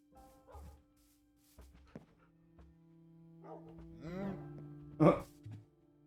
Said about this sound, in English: Look at all my dogs.